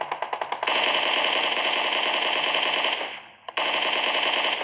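Video game gunfire at Pochinki: a few quick single shots, then a long loud unbroken automatic burst that fades briefly before firing resumes.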